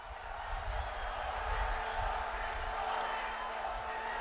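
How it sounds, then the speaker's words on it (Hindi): A large crowd at the Kalki Dham foundation-stone ceremony cheers and applauds to welcome PM Narendra Modi, a steady, distant wash of crowd noise with a constant hum beneath. "जोरदार तालियों से स्वागत, अभिनंदन, वंदन, नमन।"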